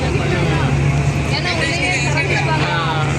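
A passenger boat pulls away near Kanyakumari with a steady broadband engine and water rumble throughout, while people aboard talk over the noise.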